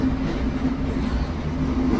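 Steady low rumble and hum of a public train carriage in motion in Barcelona, heard from inside, with a faint tonal whine running throughout.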